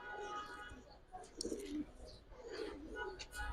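Giribaz pigeons coo softly in low throaty bursts, fairly close, mixed with faint chirps and a voice talking nearby.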